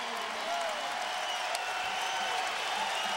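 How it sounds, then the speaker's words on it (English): Home crowd at Allstate Arena roaring during a college basketball game as the home team pulls ahead, a steady dense wash of cheering and applause under a commentator's voice. "Crowd's into it. They're percolating here at the Allstate Arena."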